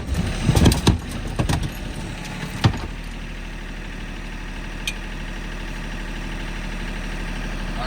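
A tractor engine idles with a steady low hum and drone, while sharp clanks and knocks of metal work on an old boat sound loudly in the first few seconds before it settles to a constant idle.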